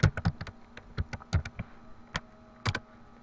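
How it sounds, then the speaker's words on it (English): Close, crisp typing on a computer keyboard while entering a chart axis title in Google's spreadsheet tool, delivered as uneven bursts of sharp key taps with short pauses between them. "then you just type in up here"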